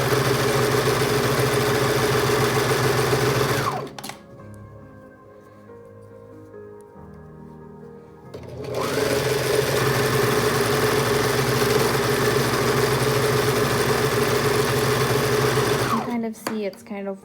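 A sewing machine stitches a hemband onto a garment in two long, loud, steady runs with a rapid mechanical whir. A quieter pause between them has rustling and handling sounds, and a speaking voice is heard in places.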